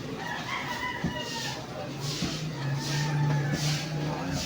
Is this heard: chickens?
yes